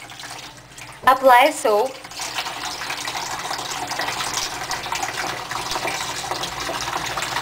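Tap water runs steadily while hands are wet for handwashing at a sink. A brief spoken instruction comes first, then a continuous, fairly close gush of water that lasts to the end.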